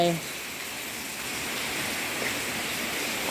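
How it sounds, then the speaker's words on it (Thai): Steady hiss of rain falling, a broad even wash of noise with no other clear sounds. "คุมไว้ฝนตก"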